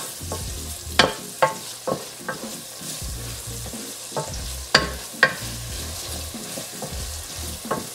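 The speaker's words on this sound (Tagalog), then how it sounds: "lutuin nyo lang din maigi yung bagoong" Shrimp paste sizzles with pork and tomatoes in a pan, a steady frying hiss under repeated scraping strokes of a spoon, close and fairly loud, with no talk.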